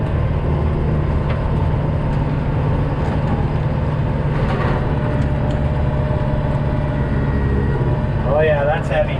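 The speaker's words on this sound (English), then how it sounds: "you'll hear the tractor as it's working" A tractor-mounted snow blower drones steadily through heavy record snowfall, a loud, continuous low engine rumble that strains under the load, with faint squeals near the end.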